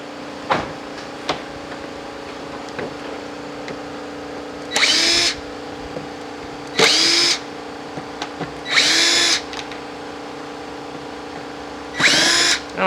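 A power drill backs out screws in four short, loud whirring bursts separated by quiet pauses, with faint clicks and handling noises between them.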